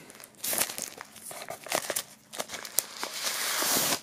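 Plastic wrapping crinkles and tears as it is peeled off a Lady Gaga Chromatica box set, a close, continuous rustle with sharp crackling bursts throughout and no talking.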